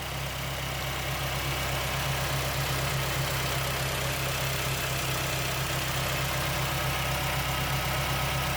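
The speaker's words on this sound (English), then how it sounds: "Mostly lifter noise. This loud, that's normal." A car engine idles steadily, with a constant low rumble and a fast, light mechanical ticking of lifter noise running through it.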